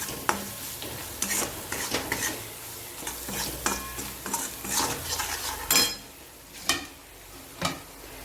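A spoon stirs chilli powder, garam masala, coriander-cumin powder and salt into a vegetable mixture in a pan, with repeated scraping strokes, metallic clinks and a low sizzle, close and uneven in rhythm.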